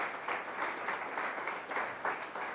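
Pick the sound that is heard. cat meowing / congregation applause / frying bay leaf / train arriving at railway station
congregation applause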